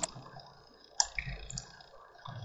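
A computer mouse clicks while working in Photoshop, with one sharp near click standing out clearly over a quiet room hum.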